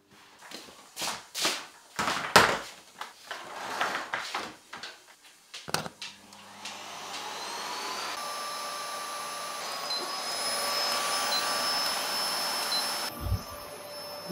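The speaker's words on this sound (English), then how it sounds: "I'm going to use the time to vacuum clean the floors." A vacuum cleaner runs at home while cleaning the floors. After a few knocks and handling noises it starts up, holding a steady, moderately loud drone and whine near the listener.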